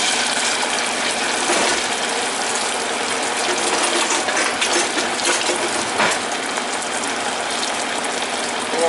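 Pieces of yuca drop into hot frying oil, filling the scene with a steady, dense sizzle and crackling bubbling that stays fairly loud and continuous, with brief bursts of spitting.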